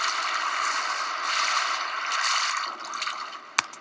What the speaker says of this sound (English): what you hear there is lapping oil sound